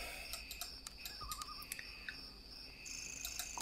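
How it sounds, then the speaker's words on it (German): Crickets chirp steadily in a dark forest in a video game, with high, even trilling sustained throughout, a few faint bird or owl calls, and brief soft clicks in a quiet background. "Aber wir hören im Hintergrund diese Zillengrüppen? Diese Grillen? Diese Grillenzirpen."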